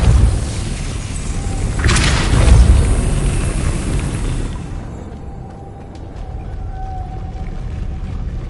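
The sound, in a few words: Depulso spell cast in the video game Hogwarts Legacy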